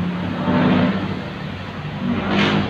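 A motorcycle engine revs nearby with a steady rumbling drone that rises and falls in intensity, heard at a local motorcycle display.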